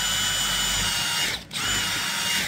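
A DeWalt power drill runs loudly and steadily while drilling a rivet on a handmade Triumph lowrider motorcycle build, briefly cutting out once before spinning back up.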